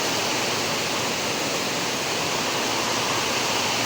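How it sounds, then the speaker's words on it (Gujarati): Dense, steady roar of heavy rain pouring down without a break, a constant broadband hiss filling the whole stretch. "જો ફૂલ વરસાદ આવ્યો"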